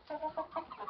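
Roosters on a farm squabble with a quick run of short, clipped clucks and squawks, four or five bursts in under a second, soft and slightly distant, with no talking.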